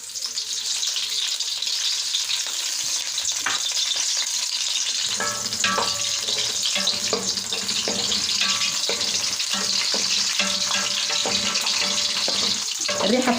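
Meat browning in its own rendered fat with oil added, for stuffed vegetables (mahshi), sizzling steadily and loudly throughout, with occasional stirring scrapes and clinks; the frying grows denser after the first few seconds.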